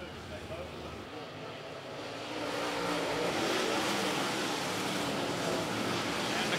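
Late Model race cars circling Sumter Speedway in a Blue Ridge Outlaw feature, a broad distant roar that grows louder partway through and holds steady, with a commentator talking over it.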